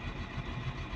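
A Caterpillar 950H wheel loader diesel engine runs steadily during injector testing, with a low, even rumble and a slight rhythmic pulse, close and continuous with no voices.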